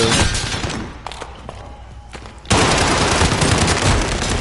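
Gunfire in the Warzone video game: scattered single shots and short bursts, then a dense, loud fusillade of rapid automatic fire for the final seconds.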